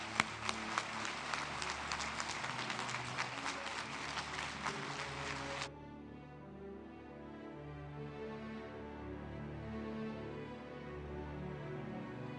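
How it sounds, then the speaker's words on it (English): Lively audience clapping at a lifetime achievement award ceremony, dense and sustained for about six seconds before cutting off abruptly, leaving only a low room hum. "Please, a big round of applause."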